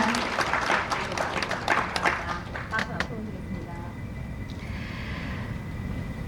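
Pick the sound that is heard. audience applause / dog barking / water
audience applause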